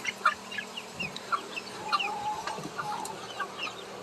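Chickens on a farm, including white hens with a guinea fowl among them, cluck and chatter in quick overlapping bursts, close and moderately loud, with no talk.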